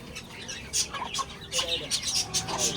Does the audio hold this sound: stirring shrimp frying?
no